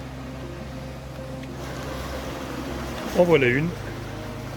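Water flows over small waterfalls beneath a bridge, a steady, even rushing wash that runs throughout. Someone briefly speaks near the end.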